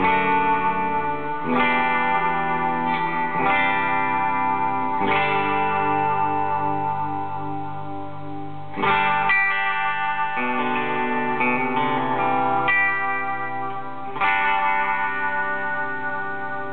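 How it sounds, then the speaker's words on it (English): Electric guitar run through two combined pedals producing a tape-style echo, sustained chords whose repeats cascade and blur into one another, with a few fresh strums restarting the wash; steady, loud and ambient throughout. "you have a real kind of almost tape echoey sound, sort of like the repeats cascade into each other in such a nice way"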